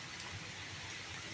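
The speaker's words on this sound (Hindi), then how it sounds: "अब ये जो बारिश हो गई है या हो रही है" Steady rain falls in Karachi, heard as a soft, even hiss of drops with no pauses over a short stretch, with no voices.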